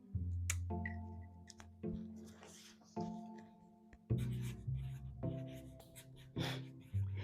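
A pen or marker writes on paper strips for a kindness paper-chain craft, making several short, close scratchy strokes with small squeaks, separated by brief pauses, quiet and with no talking.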